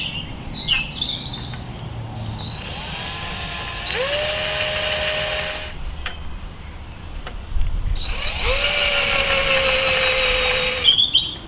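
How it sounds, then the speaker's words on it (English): Drill boring holes in metal end pieces for a scalemail weaving frame, two sustained whining bursts of a few seconds each, close and loud, with small tool clicks and handling noises between them and no talk. "Now we've marked the holes, we can go ahead and drill them."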